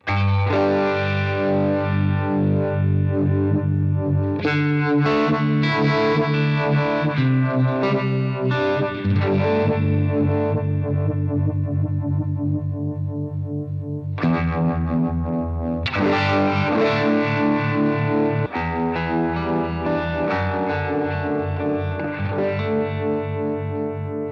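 Electric guitar played through a Fjord Fuzz Frei Uni-Vibe pedal fed by fuzz, giving thick, distorted chords and sustained notes with a swirling, pulsing modulation, loud and continuous with brief gaps between phrases.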